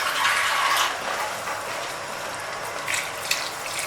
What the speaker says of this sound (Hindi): दम देने से पहले हम इसमें पानी शामिल करेंगे, तकरीबन 1 कप।